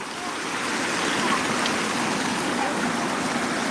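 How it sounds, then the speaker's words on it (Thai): A waterfall swollen after rain at Wat Tham Phothisat in Nong Hin, Loei, Thailand, roars as a steady, loud, close rush of falling water that stays unbroken throughout. "พามาชมบรรยากาศน้ำตกน้ำไหลจากจากฝนตก"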